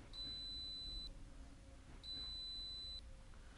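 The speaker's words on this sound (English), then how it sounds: "in 3 minutes' time of no activation, an alarm will sound" A Lofrans anchor windlass helm switch sounds its inactivity timeout alarm: two steady electronic beeps about a second long each, separated by a pause, faint over low background noise with no talking.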